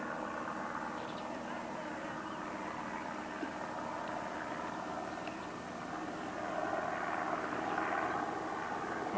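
A low, continuous drone of a Robinson helicopter in flight, faint and distant, with a steady hum swelling slightly toward the end.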